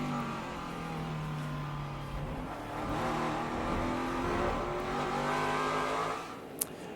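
NASCAR Xfinity Series stock car on the Circuit Gilles Villeneuve road course, braking hard with a falling engine note, then a steady, loud, rising roar as it accelerates away, with a brief sharp click near the end.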